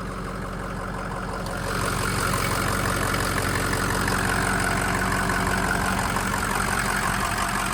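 A single-cab Ford F250 with a 6.0 Powerstroke diesel engine idles steadily and smoothly up close, its low rumble growing slightly louder after a couple of seconds and continuing alone.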